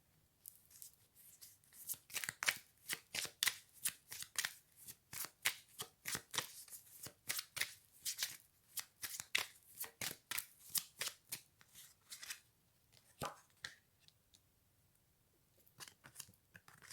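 Tarot cards are shuffled repeatedly, a long series of crisp riffling bursts and flicks in uneven rhythm, close and quiet, with no talk over them.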